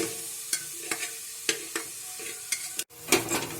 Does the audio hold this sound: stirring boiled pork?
yes